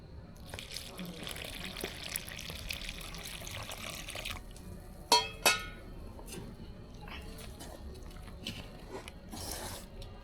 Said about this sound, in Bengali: এখন দিয়ে দেব কুসুম গরম পানি।